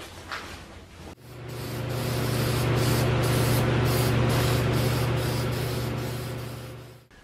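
Heat-resistant Rust-Oleum grill paint sprays from an aerosol can onto a truck-wheel fire pit, one loud, close, continuous hiss lasting about six seconds, then cutting off abruptly, with no talking.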